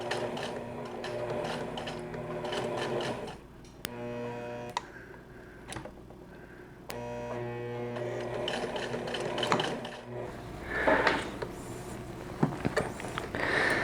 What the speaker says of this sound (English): It's reaching the end of the sleeve where the top stitching gets a bit difficult.